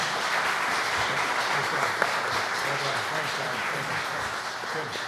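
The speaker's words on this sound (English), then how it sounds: "Let's all give them a round of applause." Audience applause for the panelists at an agricultural town hall on balancing wildlife and agriculture, steady dense clapping from a crowd lasting the whole stretch, moderately loud with no voices over it.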